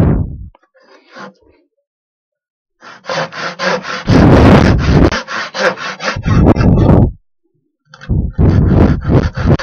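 A hand saw cuts through wood clamped just outside a metal vise while making wooden toy cars, giving loud, rhythmic back-and-forth rasping strokes in several runs separated by short pauses, close up and alone.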